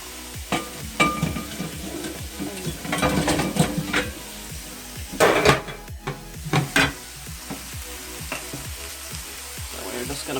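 Chicken and vegetables cook on a stovetop for a stir fry, sizzling while utensils stir and clack against the pan in uneven bursts, louder in the middle and then quieter, with no talk.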